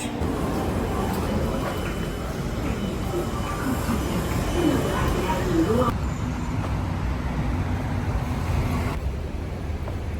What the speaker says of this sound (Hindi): सो मॉल से जस्ट 1 ही मिनट के दूर पे ये MRT स्टेशन है